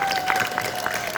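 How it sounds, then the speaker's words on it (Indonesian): Brief burst of audience applause at a high school assembly in a hall, steady dense clapping with a faint high ringing tone running underneath. "sekali lagi tepuk tangan"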